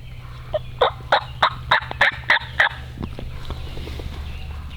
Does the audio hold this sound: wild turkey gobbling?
yes